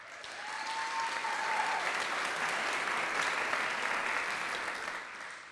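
An audience applauds for a women's head coach and assistant coach at an awards event, a steady, full round of clapping that swells and then fades toward the end.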